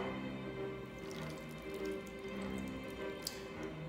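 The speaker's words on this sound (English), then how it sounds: "take the blend of basil, limon, garlic, and just pour it on top" A basil, lemon and garlic marinade is poured over salmon, giving a faint, close trickling and dripping that lasts a few seconds, with no talking.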